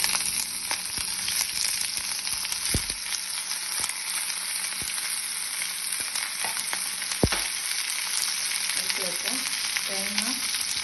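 Ivy gourd (kovakka) with curry leaves frying in a pan, a steady close hiss of oil with a few sharp clicks of stirring, no talking.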